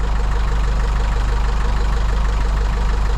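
A sailboat's inboard engine running steadily after being shifted into gear, a loud, even, low throbbing drone with a regular pulse that holds for the whole stretch, with no talking.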